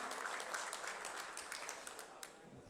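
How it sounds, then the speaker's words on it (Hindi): Audience applause at a get-together of a teachers' association, a faint, steady patter of many hands clapping for under three seconds, thinning toward the end. "मैं चाहूँगा कि डेफक्लेरिया के लिए भरपूर तालियां बजाएं"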